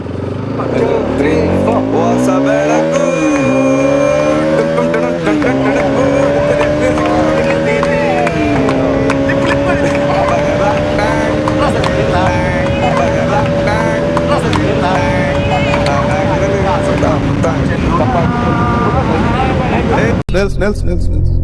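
A Bajaj Pulsar RS200 motorcycle is ridden hard, its engine note climbing through repeated rising revs with gear changes, loud and close, with wind noise mixed in.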